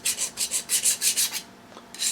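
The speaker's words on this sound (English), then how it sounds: "it only take about a dozen strokes with a file or so" Hand file rasping a small nub off a main bearing cap: about ten rhythmic, scratchy strokes in quick succession, close and clear, a short pause, then one more stroke.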